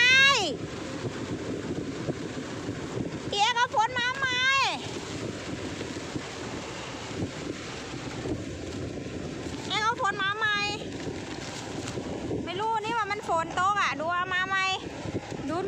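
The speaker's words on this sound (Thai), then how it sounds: "ลมมาแรง" Strong gusty wind ahead of a rainstorm roars and buffets the microphone outdoors, loud and continuous, while a person repeatedly shouts and exclaims over it.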